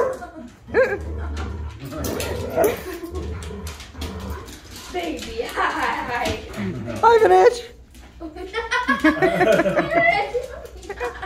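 Dogs romp together at a farm, letting out whimpers and short yips amid rough play, while people talk and laugh nearby throughout.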